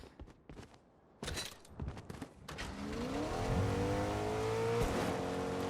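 A car engine in Fortnite Chapter 2 Remix zero build mode comes in after a scatter of footsteps and impacts, then holds a steady, fairly loud hum whose tone slowly rises, with no talking.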